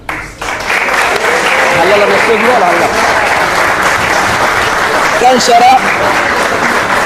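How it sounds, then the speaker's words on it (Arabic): Sustained audience applause rises at a community event honoring young people, a steady mass of clapping that carries on for several seconds while someone speaks over it. "تصفيق"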